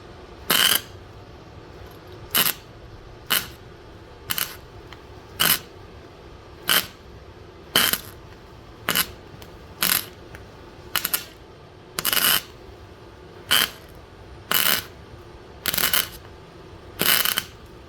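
A budget home MIG welder lays a series of short tack welds to fill a burned-through hole, about fifteen crisp crackling bursts each lasting roughly half a second, evenly spaced over a low background hum.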